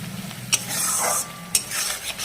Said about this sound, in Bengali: এইবার ভালো করে মশলাটাকে কষাবো বন্ধুরা